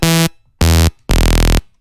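Three short blasts of a heavy dubstep bass patch built in Serum from a processed saw wave, loud and buzzing with dense harmonics, each cut off by silence, with the last tone longest and deepest.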